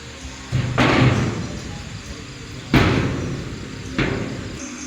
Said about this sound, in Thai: เดี๋ยวมาดูการปิดประตูกันครับผม